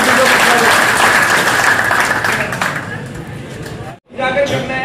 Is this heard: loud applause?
yes